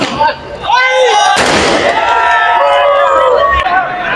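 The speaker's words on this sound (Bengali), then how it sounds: "বিভিন্ন ধরনের আতশবাজি ফুটিয়ে যাত্রা মুহূর্তকে আরও রঙিন করে তুলেছে" Fireworks set off during a pleasure trip crackle and burst in a loud sharp blast, then leave a noisy fizzing wash over a chattering crowd, with whistling tones rising and falling throughout.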